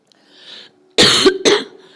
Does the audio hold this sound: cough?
yes